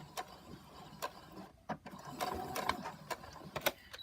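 A sewing machine runs steadily while backstitching fabric for a scrunchie, its mechanical whir punctuated by regular ticking clicks of the mechanism, close up, with a brief lull in the middle before the stitching resumes.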